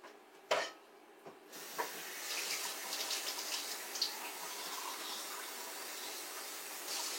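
Water running into a pot of potatoes dressed with cream of chicken soup, a steady soft splashing stream after a couple of brief knocks, fairly faint and close.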